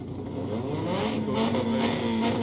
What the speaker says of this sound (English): We hear the cars revving